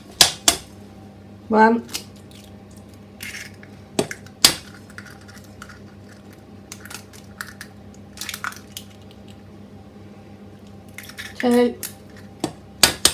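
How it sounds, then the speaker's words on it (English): Three eggs cracked one at a time against a hard edge into Betty Crocker chocolate swirl cake mix, giving sharp close taps and crunches spaced apart, with a person talking and counting between them. "then it says add your 3 eggs"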